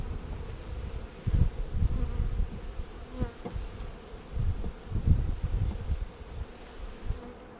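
Bees buzz densely around a wooden beehive, a continuous close humming swarm with swelling and fading passes, no voices.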